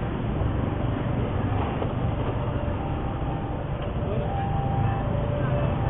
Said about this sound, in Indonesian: ada lagi kereta lewat.